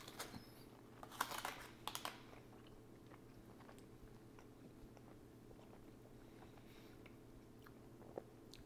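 Someone chews a tough, gummy-candy hot dog close to the microphone, with a few sharp crunchy bites early on, then quieter intermittent chewing and mouth sounds under a faint steady background hum.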